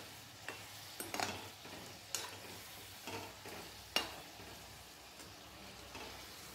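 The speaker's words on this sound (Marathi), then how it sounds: "छान छान सोनेरी रंगावर हे तळून घ्यायचे आहेत." Mango modaks deep-fry in hot oil, giving a faint, soft bubbling sizzle broken by occasional light clicks of a spoon turning them, with no talking.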